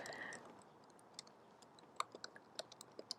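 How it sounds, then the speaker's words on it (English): Quiet keyboard typing into an online chat, a sparse run of light clicks and taps that grows busier toward the end, close and soft with no talk. "I'm typing it into the chat."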